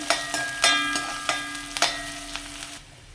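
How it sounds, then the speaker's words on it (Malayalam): Onion, curry leaves and garlic fry in hot oil for a pumpkin roast, a steady close sizzle broken by several sharp crackling pops and stirring clatters, with a faint tonal hum running underneath and no voices. "സവാള കറിവേപ്പില വെളിച്ചുള്ളി അതിലേക്ക് ഇട്ട് കൊടുക്കാം അപ്പോൾ അതൊന്ന് മൂത്ത് വരുമ്പോൾ"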